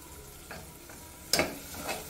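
Cubed capsicum sautéing with curry leaves and coriander leaves in a pan: soft, low-level sizzling with a few light taps and one brief scraping stir.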